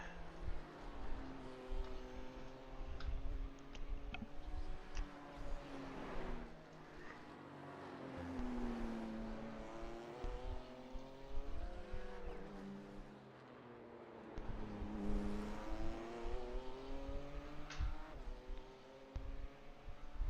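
A Ferrari race car engine in a racing video game at the Nurburgring 24 hours: fairly quiet, it revs up in repeated rising sweeps through the gears, drops back, then climbs again, with no voices.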